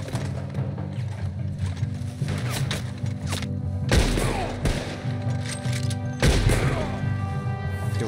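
Repeated rifle gunfire in Red Dead Redemption 2, sharp shots and heavy booming blasts in an ongoing firefight over a constant low rumble, with louder impacts near four and six seconds.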